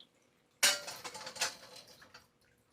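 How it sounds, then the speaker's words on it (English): A medium saucepan is picked up and set down in a kitchen with a sudden metallic clatter, followed by a second of softer rattling and knocking that fades out. No one speaks. "We got our medium saucepan,"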